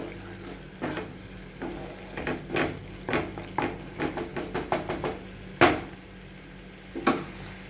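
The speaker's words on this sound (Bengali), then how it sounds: "এই টমেটো কেচাপটাও খুব ভালো করে মিশিয়ে দেবো" Spoon stirring tomato ketchup into a vegetarian paneer masala in a pan, a series of sharp scraping knocks against the metal over a soft steady sizzle, close and alone without talk.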